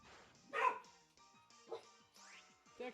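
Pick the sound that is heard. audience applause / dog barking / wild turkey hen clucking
dog barking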